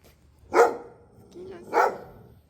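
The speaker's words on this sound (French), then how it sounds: "Oh, le chien." A dog outdoors near the castle ramparts of Kavala, a seaside town in northern Greece, gives two loud, sharp barks about a second apart, with a faint lower yelp between them.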